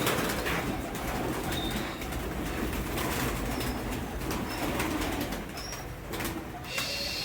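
Pigeons in a pen coo softly and flutter their wings now and then, with a steady low hum behind them; the birds sound close but faint, and no one speaks.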